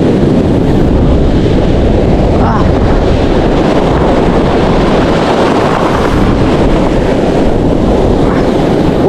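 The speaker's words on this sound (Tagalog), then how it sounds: "Ang lakas talaga ng alon." Strong, rough sea waves surge and crash around a small boat while someone casts a fishing line, a steady loud wash of water and wind buffeting the microphone throughout, with no clear pauses.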